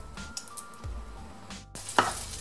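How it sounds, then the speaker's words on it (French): Seitan frying in olive oil in a pan, with a soft sizzle broken by scraping and stirring clatter and a sharper hiss burst near the end, fairly quiet and close. "je vais griller le cétin dans un poêle avec de l'huile d'olive"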